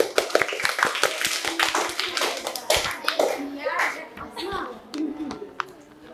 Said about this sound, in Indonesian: Beri tepuk tangan dulu buat temannya.